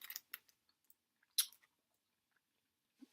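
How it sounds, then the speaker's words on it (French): American candy is chewed close to the mic in quiet, sparse bites and crunchy squishes, a few short clusters of mouth noise separated by silence, without talk. "Faut mâcher un peu."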